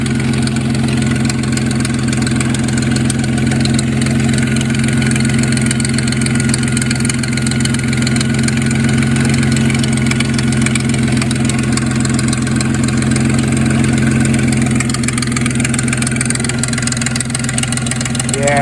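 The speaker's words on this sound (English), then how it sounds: "it's definitely got a loose and rattling timing chain" A 2004 Nissan Maxima engine idles steadily with a loose, rattling timing chain, a constant loud drone overlaid with a fine ticking clatter, close up and unbroken throughout.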